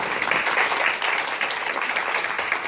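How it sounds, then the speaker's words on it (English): Dense, steady audience applause at a women's event in metro Atlanta, many hands clapping continuously at moderate loudness with no gaps. "can we give her another round of applause?"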